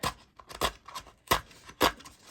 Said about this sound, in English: I'll take my scissors